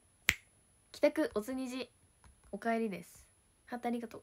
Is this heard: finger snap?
yes